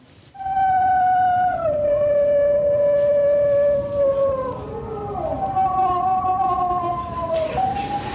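A dog sings in a played recording, a loud, very high-pitched sustained howl that wavers and slides up and down for several seconds, heard on its own without talk.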